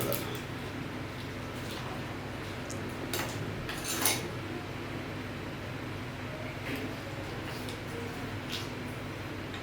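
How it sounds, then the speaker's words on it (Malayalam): Chopped mango pickle being stirred with salt in a bowl, giving soft, close scraping and light clinks of a spoon against the dish over a quiet background hum, with one sharper clink midway; no speech. "ഇനി ഇത് നന്നായിട്ട് നമുക്കൊന്ന് ഇളക്കി റെഡിയാക്കി എടുക്കാം"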